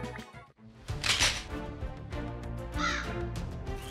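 Crow caws in the Roblox BedWars video game, loud and repeated over busy game music and clattering effects, with no talking.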